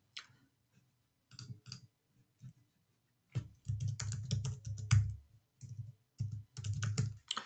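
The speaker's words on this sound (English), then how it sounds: "Type your city." A city name typed on a computer keyboard into a map search, sparse clicks at first, then a dense run of quick keystrokes in bursts separated by short pauses, close and with no speech.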